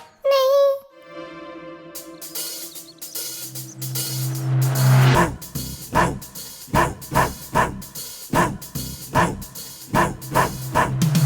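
A cartoon guard dog barks in a Hindi animation, with a short tonal jingle first, then a rising whoosh and a run of evenly spaced, loud barks repeated rhythmically to the end.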